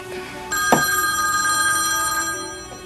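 A telephone bell rings loud and close, a sustained metallic trill holding for a couple of seconds with no voices.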